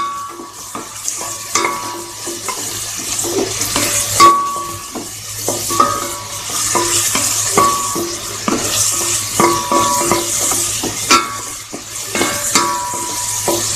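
Onions fry in a pan with two green chillies while being stirred for a rajma masala curry, a steady sizzle broken by repeated scraping and clinking of a spatula against the pan.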